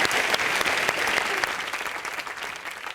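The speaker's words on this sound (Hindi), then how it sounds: "जोरदार तालियां" A studio audience at a Hindi TV comedy show gives a dense burst of hearty clapping that carries strongly and then gradually fades.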